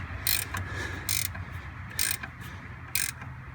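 A ratcheting wrench loosening bolts on a 1974 Dodge Power Wagon, four crisp ratchet clicking bursts in short swings spaced about a second apart, close and clear over a low background hum.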